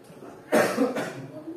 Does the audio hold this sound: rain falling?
no